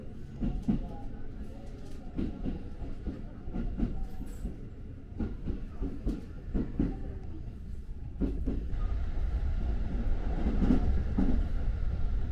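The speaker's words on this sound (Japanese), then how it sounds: "走行しているうちに電車は大垣駅に到着です" A local train rolls along the tracks between Maibara and Ogaki stations in Japan, with rhythmic clickety-clack from the wheels, a steady rumble rising slightly toward the end.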